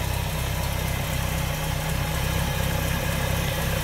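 A 1965 Buick Riviera's original engine idles steadily with a low, even rumble and faint vibration, running smoothly and continuously close by.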